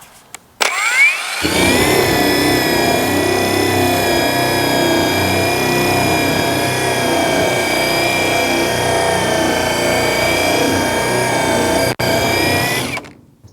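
A Seesii surface conditioning tool fitted with an 80 grit drum runs at full speed, a loud, steady motor whine with a grinding edge that starts after a brief click, holds for about eleven seconds and then winds down.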